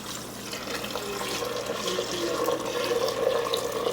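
Chicken stock, the water the chicken was boiled in, is poured steadily into a soup being cooked outdoors at minus ten degrees. It makes a continuous, moderately loud liquid splashing and trickling with no breaks.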